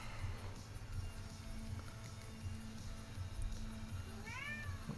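A cat meows indoors, a short, rising, plaintive call near the end over a quiet, steady room background with soft low rumbling.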